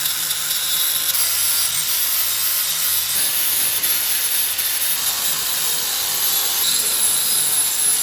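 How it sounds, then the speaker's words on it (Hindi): A grinder smooths a rusty engine bracket, giving off a loud, continuous, high-pitched abrasive whine with little variation and no voices. "हमने एक इंजन ब्रैकेट पे ग्राइंडर मार के उसको full time Pola Pola and मुलायम कर दिया।"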